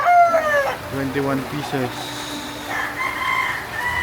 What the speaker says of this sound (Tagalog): Yung mga manok nga pala nakatali dyan.